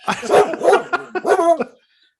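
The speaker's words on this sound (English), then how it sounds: "what is that? Your dog?" A dog barks and yips close by in a quick burst of four or five sharp, loud calls, then falls silent.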